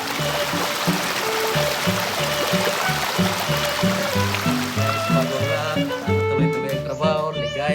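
Spring water flows steadily at a nature spring resort, a continuous close rushing and splashing wash, with music and voices playing underneath.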